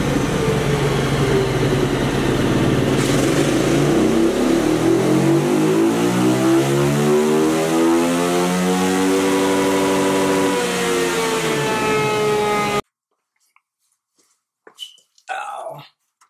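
KTM 350 EXC motorcycle engine running on a dyno, loud and close, climbing through the revs in a rising wail before cutting off abruptly, followed by brief faint clatter.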